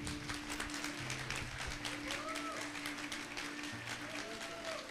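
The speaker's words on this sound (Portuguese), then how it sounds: "Quem se alegra com isso nesta noite, aplauda bem forte." Guests applauding at a 50th birthday celebration, a constant patter of many hands clapping at moderate distance, fairly soft, with faint voices and a low hum running underneath.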